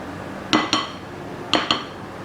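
Four sharp clinks of a utensil striking a bowl while sifted cookie dough ingredients for soft chocolate chip cookies are stirred, arriving in two quick pairs, close and clear with no talk.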